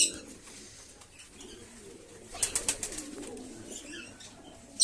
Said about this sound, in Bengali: এটা আমার সেই দেশি পায়রা